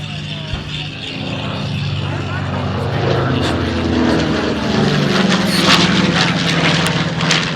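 A loud Skyraider propeller plane engine roars past at Miramar with a deep throbbing drone, rising and shifting in pitch over a constant wash of outdoor noise.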